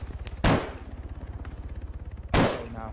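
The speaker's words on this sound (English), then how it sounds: "Trying to shoot them through the side of the metal barrier with the underbarrel 50 on the Type 115" Two heavy gunshots from a .50-caliber underbarrel weapon on a Type 115 rifle in Arma 3, fired at enemies behind a metal barrier, each a sharp loud blast with a ringing tail, spaced about two seconds apart over steady low engine-like rumble.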